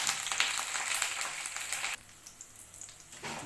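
Three dried red chillies frying in tempering oil for a raw mango chutney, a close, bright sizzle that drops suddenly partway through, then rises again.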